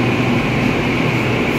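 Delhi Metro train running, a steady close rumble with an even hum and broadband rolling noise throughout, no talk.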